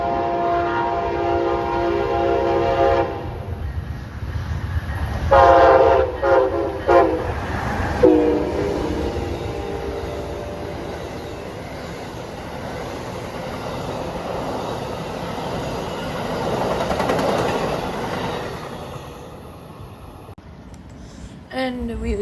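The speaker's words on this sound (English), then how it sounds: "And now we'd be in Lakeland for another PO41 with a Phase 7 ALC 42 and a Amtrak Phase 5 P42." An Amtrak passenger train led by a Phase 7 ALC-42 and a Phase 5 P42 locomotive passes at Lakeland, Florida, sounding loud horn blasts early on before a sustained close rumble of rolling cars that fades toward the end.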